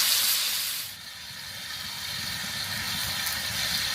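Chicken pieces fry in soybean oil in a wok for chow mein with bell peppers, giving a steady, close hiss that briefly dips near the start before settling into a continuous sizzle.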